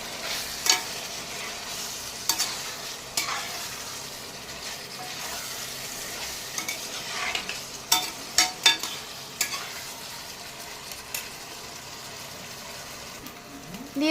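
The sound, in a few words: chickpea masala being stir-fried in a pan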